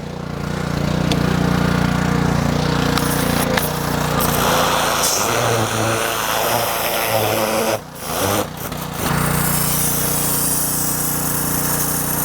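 A Honda engine on a pressure washer runs loud and steady up close, with a rough, continuous drone that dips briefly before it settles back into its constant roar.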